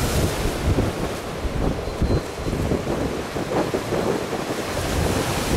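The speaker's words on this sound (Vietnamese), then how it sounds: "Sóng quá trời lớn các bạn, đẩy kìa." Large sea waves roll in at the harbour mouth of La Gi port in Binh Thuan, Vietnam: a loud, continuous roar of surf and crashing water mixed with heavy wind buffeting, with no voices.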